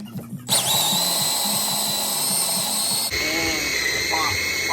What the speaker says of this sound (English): We gotta drill it out. Started the drill.